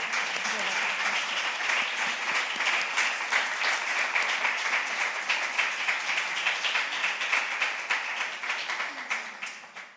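Sustained audience applause after a talk at a public event, steady dense clapping filling the room throughout, slightly thinning toward the end.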